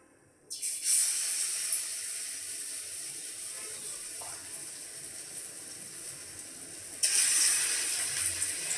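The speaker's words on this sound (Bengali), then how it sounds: "কড়াইয়ের তেলটা গরম হয়ে গেছে। এবার একটা একটা করে পকোড়া আমি হাতে করে" Pakoras dropped one by one into hot oil in a wok set off a sudden loud hiss of frying that holds steady, then swells again in a second fresh burst as another piece goes in.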